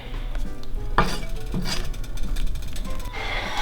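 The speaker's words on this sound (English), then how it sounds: "I'm gonna go in there with my whisk. It will be a little easier. Give it a good stir." A whisk stirring a tuna noodle casserole mixture in a pot, close up, with continuous scraping and swishing, soft metallic taps against the pot and a faint sizzle underneath.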